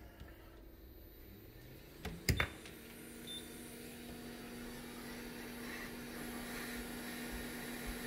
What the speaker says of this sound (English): And now I'm going to heat it up with the heat gun.